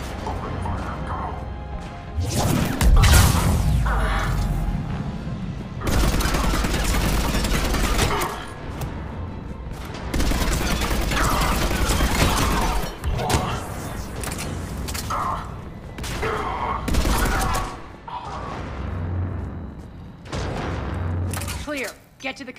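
Sustained gunfire and heavy explosive booms from a sci-fi shooter battle at a defense station in Mass Effect, loud and chaotic in dense bursts with brief lulls, mixed under shouted voices and combat chatter.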